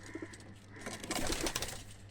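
Pigeons in a coop with nesting birds, soft low cooing calls repeating at close range over faint background rustle.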